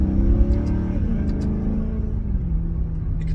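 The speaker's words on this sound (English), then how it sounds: "this car's loud anyway, and it does sound nice" A loud car engine and exhaust rumbling close by as it revs, with a throaty low drone that rises and settles and no talking over it.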